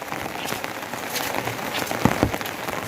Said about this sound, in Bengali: বৃষ্টি কেরম হচ্ছে